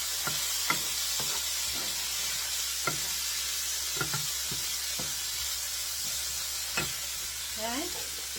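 Cornbread stuffing with ground turkey and Italian sausage fries in a pan, a constant bright sizzle punctuated by repeated spoon taps and stirring scrapes, close and steady throughout.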